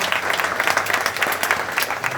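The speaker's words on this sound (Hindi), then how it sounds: "आप सबसे निवेदन है कि प्लीज़ तालियों से इनका स्वागत करिए।" Audience applause at a World Health Day event on maternal and newborn health, a dense crowd of claps welcoming the chief guest, steady and fairly loud for a couple of seconds.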